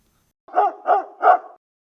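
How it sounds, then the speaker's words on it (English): A dog gives three evenly spaced barks, loud and close, each short and clipped, with silence before and after. "Dog,"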